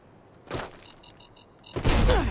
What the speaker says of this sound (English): There goes another explosion.